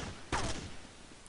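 A single sharp gunshot in Counter-Strike 1.6 during a competitive match, fairly faint, with a short decaying tail and low background noise.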